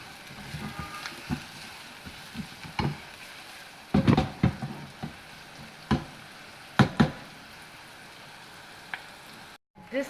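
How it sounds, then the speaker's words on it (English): Chopped garlic cloves fry in a pan with a steady sizzle, punctuated by occasional louder crackles, pops and stirring knocks, close and without talk. "Adding garlic, chopped cloves into it."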